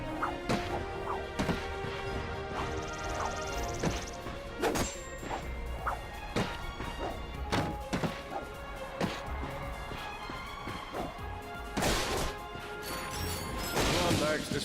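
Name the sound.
smashing crates in video game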